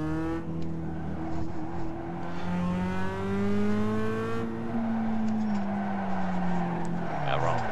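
A race car engine revs through gear changes on a lap of Laguna Seca in a racing video game, its rising whine sweeping up and dropping back under steady, close engine roar, with a voice talking over it.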